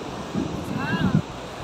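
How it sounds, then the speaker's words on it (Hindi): Night wind gusts across a sea beach at Puri, a soft steady rush with faint surf beneath and some distant murmuring in the background. "इतना शानदार हवा चल रहा है क्या बता"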